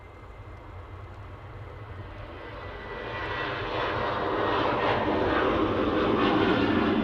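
An ASL cargo airplane begins its takeoff roll at Manchester Airport, a broad jet engine roar heard from a distance that steadily swells louder and brighter as power builds.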